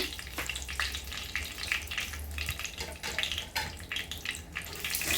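Whole spices such as garam masala, black pepper, black cardamom, bay leaf and dried chillies fry in hot mustard oil and ghee, giving a steady close sizzle with bubbly crackles throughout.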